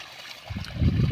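Water trickles and gurgles through a rain-flooded soybean field, starting faint and swelling into a steady, close, low burbling flow over about a second.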